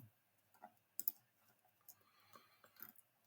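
Quiet, scattered clicks of typing on a computer keyboard, irregular keystrokes close by and faint, with no talking.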